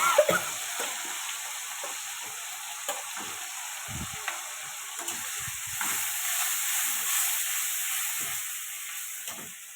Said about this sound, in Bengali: ঝালের জন্য পেঁয়াজ দিয়ে দিলাম, কুচানো পেঁয়াজ,